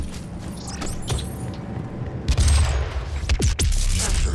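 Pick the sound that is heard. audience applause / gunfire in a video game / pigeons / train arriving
gunfire in a video game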